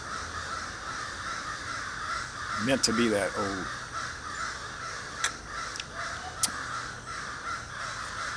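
Crows caw several times from fairly close by, a short burst of harsh repeated calls near the middle, with someone talking over them.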